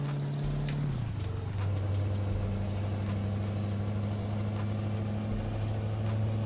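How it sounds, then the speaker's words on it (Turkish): A steady car engine in Euro Truck Simulator 2 with a Kurt exhaust mod hums at a constant pitch after a brief shift, a smooth synthetic-sounding drone with no talking. "O zaman biraz arabanın sesiyle beraber yolculuğumuza devam edelim."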